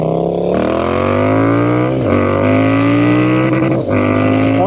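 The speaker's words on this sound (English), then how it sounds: "That was a rev limiter." Triumph Speed Twin 1200 motorcycle with an Italian Zard exhaust revving hard and bouncing off the rev limiter, a loud, close, sustained engine roar with repeated brief cutouts and rising pitch sweeps.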